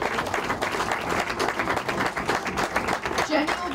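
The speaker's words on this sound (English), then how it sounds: "we should give a round of applause for Jenny" An audience at a Boston Main Streets awards event claws out a round of applause for Jenny, dense, sustained clapping filling the room with voices underneath.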